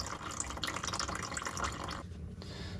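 Runny oil drains from a 1956 Plymouth Savoy into a catch container, a steady liquid pour and trickle heard up close and fairly faint, easing off near the end.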